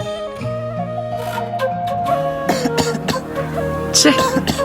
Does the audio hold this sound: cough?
yes